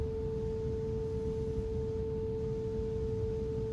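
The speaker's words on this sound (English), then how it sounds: "you heard the tones. Those are tuning forks" Two steady pure tones from struck tuning forks ring out together, one lower and one higher, holding unbroken and fairly loud over a low rumbling room background.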